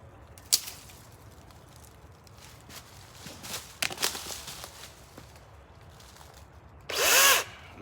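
An electric chainsaw cutting a branch from the underside, with scattered knocks and rustling before the motor whirs up loudly near the end in a short, close burst.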